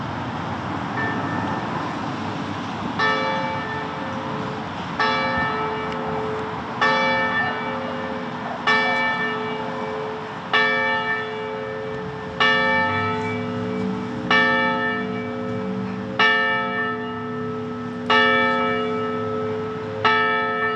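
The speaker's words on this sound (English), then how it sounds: "I would like to call upon the ringing of bells, which commemorates the end of World War I" Bells rung at a Veterans Day observance to mark the end of World War I, sounding in a steady series of clear, resonant strikes about every two seconds, ringing out over a low background hum with no talk.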